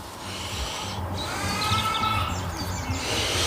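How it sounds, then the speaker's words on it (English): Gentle rubbing of dirt off an old dug-up penny, heard up close as a soft, continuous scraping and brushing texture with faint outdoor ambience. "Just gonna give it a little gentle rub."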